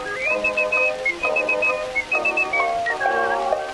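Whistled melody of the song from a recording made about 120 years ago, a steady tune with bright sustained notes over thin accompaniment and background hiss.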